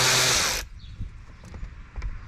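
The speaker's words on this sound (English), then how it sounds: "8mm screws out of the airbox here." Power driver loosening 8mm screws from the airbox on a Pentastar 3.6 V6 engine, with a loud, brief high whir that stops abruptly, followed by faint clinks and handling noises.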